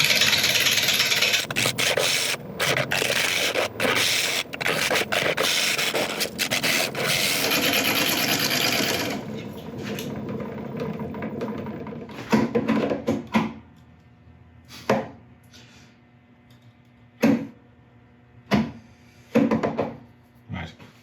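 Bark on a burl spinning on a wood lathe scrapes loudly against the tool in a dense rasping roar with rhythmic scratchy pulses, then drops to a quieter hum broken by several sharp separate rubbing bursts.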